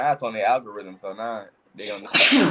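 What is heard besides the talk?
sneeze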